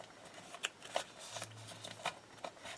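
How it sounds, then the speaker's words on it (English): Paper pages are folded around a journal, with soft, close crinkles and scattered brief rustling taps, quiet overall. "I'm just going to fold around the pages."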